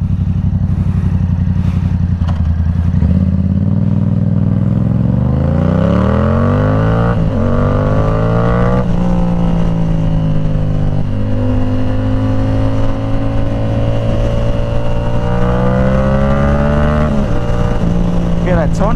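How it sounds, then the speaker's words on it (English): A Yamaha R7 sport bike fitted with an aftermarket exhaust revs up and down repeatedly, rising to loud high-RPM howls and falling back to idle, close and continuous. "Yeah, that tone at the really high RPM sounds really good."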